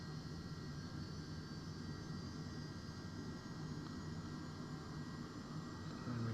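A jet engine spooling up during start in Microsoft Flight Simulator 2020, a faint steady whine and whoosh with a constant high tone, continuous and even throughout.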